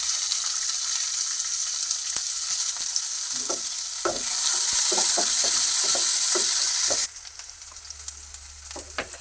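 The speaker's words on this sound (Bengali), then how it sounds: "পেঁয়াজটা হালকা করে ভাজা হয়ে গেছে" Chopped onion and green chilli fry in a pan after a tempering of cumin and nigella seeds, a loud continuous sizzle broken by a series of sharp stirring scrapes and clinks.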